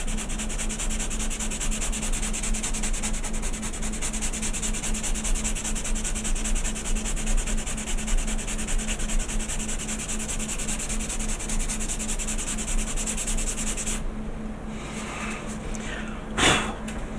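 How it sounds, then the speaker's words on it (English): Continuous, close scratchy rubbing of sandpaper over wood filler on a wooden TARDIS model, steady strokes for most of the clip, then slowing with a brief louder scrape near the end. "So I'm just going to go around sanding this off"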